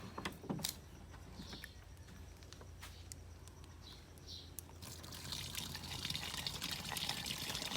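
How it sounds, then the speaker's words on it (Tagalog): About one liter of water is poured into a 6-liter container, a quiet, steady stream with scattered clinks and knocks, building to a fuller rushing pour toward the end. "lalagyan muna natin ng mga 1 litrong tubig"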